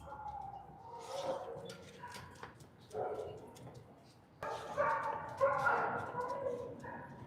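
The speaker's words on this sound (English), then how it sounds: "You guys are asking about the dog howl." A dog howls in long wavering cries with some yips and whimpers mixed in, close by and fairly loud, rising in strength toward the end while a person talks intermittently.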